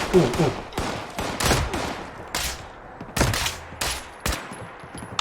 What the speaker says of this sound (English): Definitely a guy shooting over there